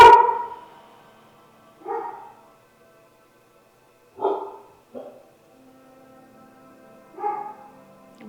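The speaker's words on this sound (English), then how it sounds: "tune out the background noises like my dog's barking" A dog barking in the background of a quiet indoor room, four or five separate barks spaced irregularly over several seconds, moderately loud against near silence, with no talking.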